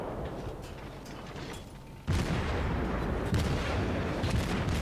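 Guns of the cruiser Omaha fire in a naval battle game, a steady rumbling barrage that jumps to a louder, heavier roar of gunfire partway through with sharp reports.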